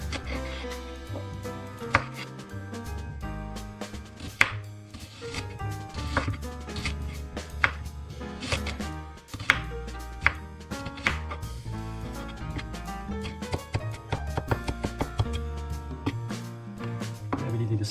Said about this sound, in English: And we need the spring onions too for the garnish. So I've cut it very fine.